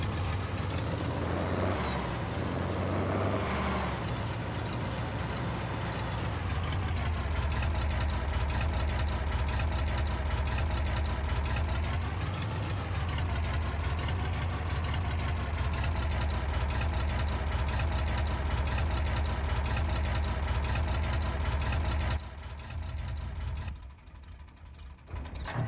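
In the Farming Simulator 22 game, a tractor engine idles with a steady low diesel drone that holds evenly for over twenty seconds before cutting out near the end.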